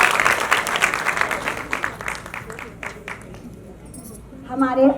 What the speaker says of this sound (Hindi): जोरदार तालियां एक बार और इन बच्चों के लिए बजाई दीजिए।